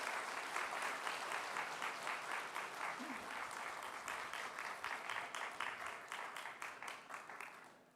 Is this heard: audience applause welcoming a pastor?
yes